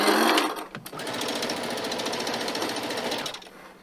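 A sewing machine run with a foot pedal stitches at speed, a fast, steady mechanical rattle that holds for a few seconds before slowing, close and continuous.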